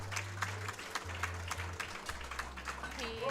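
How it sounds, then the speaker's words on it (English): Audience applause at a powerlifting championship in Auckland, moderate clapping from a crowd heard steadily under an announcer's voice talking over it. "Round of applause"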